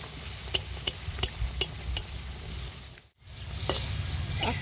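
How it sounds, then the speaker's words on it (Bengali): Phool singara deep-fry in oil over low heat with a soft steady sizzle. Sharp regular taps of a utensil cut through it, and the sound briefly cuts out near the middle. "এরকম হালকা জ্বালনে ভাজতে হবে।"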